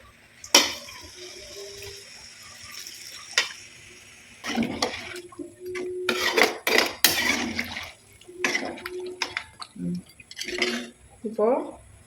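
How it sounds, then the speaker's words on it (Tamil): Water is poured into a pot of chicken fry on a wood-fired stove, mixed with clanking pots and utensils and short splashing bursts, up close in a quiet outdoor kitchen. "தேவையான தண்ணி ஊற்றிக்கலாம்"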